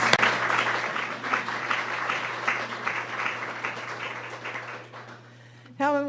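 An audience at a history symposium breaks into sustained applause, a dense, even patter of many hands under a low electrical hum, fading out before a brief sound at the very end.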